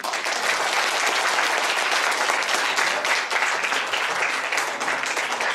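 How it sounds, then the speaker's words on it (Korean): Steady, dense applause from an audience at a lecture hall talk, loud and sustained throughout with no pauses. "박수!"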